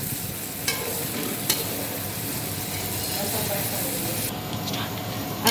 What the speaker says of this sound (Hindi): जी ये हमारे आलू जो है ये ऑयल में फ्राई हो गए हैं।